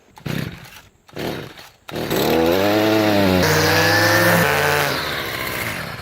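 A weed whacker starts with a couple of short bursts, then runs steadily at a loud, high-pitched whine that rises and falls slightly, close to the listener.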